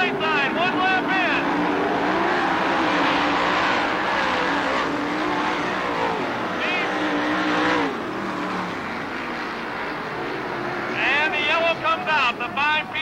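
World of Outlaws sprint cars racing in heats on a dirt track at Hales Corners in 1991, a loud continuous engine roar from the pack, with a race announcer calling the action over it throughout.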